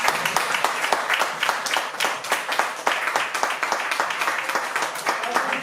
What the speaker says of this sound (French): je vous demande encore une fois d'applaudir s'il vous plaît l'oiseau noir